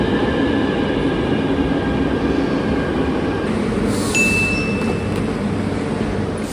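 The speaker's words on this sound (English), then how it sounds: "This is a different, older model of train" Older-model Barcelona metro train running on line 1, a continuous loud rumble of wheels on rails with faint tonal whines, and a brief high squeal partway through.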